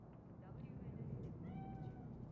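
A cat in the video game Cyberpunk 2077 gives a few faint, short meows in a quiet scene. A low background hum runs underneath.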